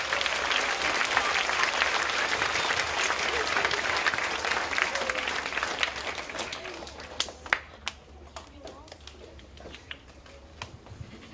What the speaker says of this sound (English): give our current staff and students a big round of applause